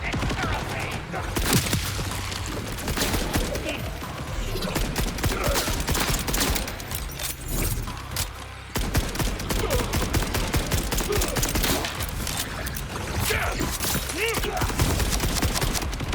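Gunfire in Borderlands 4, a dense barrage of rapid shots and automatic bursts that runs nearly nonstop at steady loudness, with short breaks and a voice briefly talking under it.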